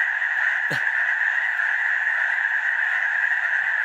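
A dense, loud chorus of frogs croaking nonstop at a campsite on the Pacific Crest Trail, their calls blending into one steady droning wall of sound.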